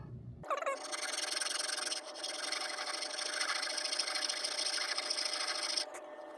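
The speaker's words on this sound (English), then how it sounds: "Do a little bit of sanding there" Sanding a wooden coffee table top: a steady, close rubbing rasp continues almost unbroken for several seconds, with one brief pause near the middle and no voices.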